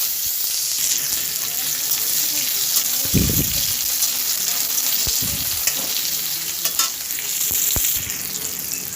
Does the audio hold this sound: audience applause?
no